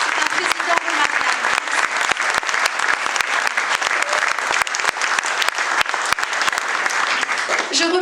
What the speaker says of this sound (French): on peut aussi beaucoup l'applaudir